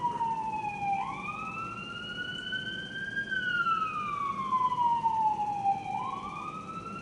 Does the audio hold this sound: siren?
yes